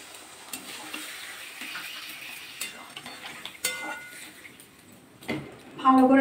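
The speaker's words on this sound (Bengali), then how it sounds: "ভালো করে মিশিয়ে নিলাম।" Boiled potatoes with a little water are stirred in a pan alongside okra and bitter gourd, soft scraping and light wet sizzling with a few sharper clinks, ending in a brief louder clatter.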